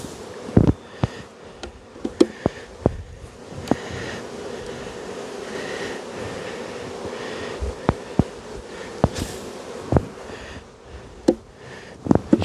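Honeybees drone in a steady, close buzz while frames are shaken down over a hive, with sharp knocks and thumps from the equipment scattered through it.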